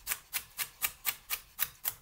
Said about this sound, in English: my knife is not leaving the board all the time. Rocking all the time.